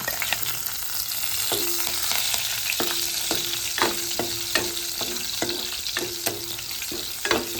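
Garlic sizzles in hot oil as a tempering for a prawn dish, a dense crackling hiss close by, with a rhythmic series of short spatula scrapes and taps through the second half.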